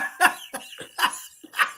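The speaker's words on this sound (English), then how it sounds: "I'm coughing." A man coughs in four quick, rough bursts, close and fairly loud, with a slight laugh-like edge.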